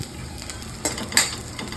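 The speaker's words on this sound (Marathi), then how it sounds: "पॅन मध्ये तेल टाकून लसूण आणि खोबरं परतून घेतलेलं आहे" Garlic and coconut sauté in oil in a pan, giving a soft, constant sizzle with a couple of sharp utensil scrapes and clinks against the pan.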